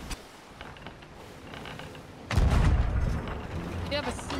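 Cannon fire in the Sea of Thieves game, a heavy boom at mid-clip followed by rumbling and creaking ship noises, with players talking.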